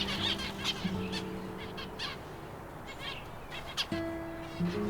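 Finches in an aviary give light, scattered chirps and tweets, moderately near, over a steady background hum, with no talking.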